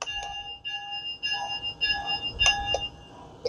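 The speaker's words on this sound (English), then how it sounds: "Here's the bell." A Thomas the Tank Engine toy train rings its electronic bell, several bright chiming dings in an irregular run, close and moderately loud with no talking.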